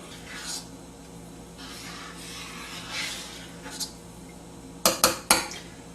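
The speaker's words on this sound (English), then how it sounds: "you just stir it and boil it down gradually until it has thickened again" A spoon scrapes and swirls around inside a pot of boiling wild muscadine jam in slow, uneven strokes, then three sharp metallic clinks ring out close together near the end.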